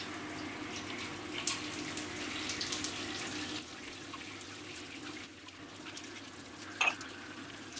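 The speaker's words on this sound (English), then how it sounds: "Grab the glass, fill it up with warm water from your shower, and just pour it in there" Warm water running from a shower in a bathroom into a glass, a steady soft hiss and splash that continues throughout at moderate level, with one brief clink near the end and no talking.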